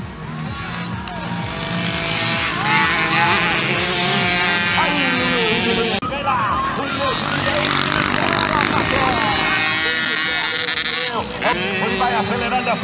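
At a 50cc velocross race in Amambai, small dirt bike engines whine and climb in pitch as riders accelerate hard, buzzing loudly throughout while a commentator talks excitedly over them.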